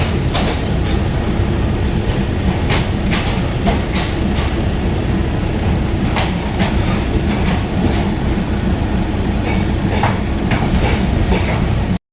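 A train rumbles steadily along the rails, a continuous loud low roar with repeated clicking and clacking of wheels over track joints.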